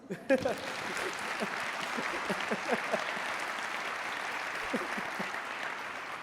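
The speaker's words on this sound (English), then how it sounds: "I think that one warrants applause." Sustained applause from an audience, dense clapping that holds steady throughout, with a few louder claps near the start.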